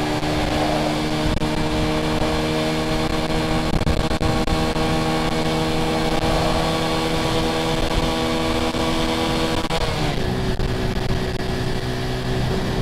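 A 50cc moped engine at high revs while riding at speed, a continuous buzzing drone with steady whine and wind rush, briefly shifting pitch near the end, loud and close with no talk.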